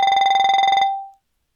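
A simulated TTC subway train door-closing warning plays as a rapid series of about fifteen bright electronic chime pulses at a steady pitch, loud and alone, ending in a short fading tail.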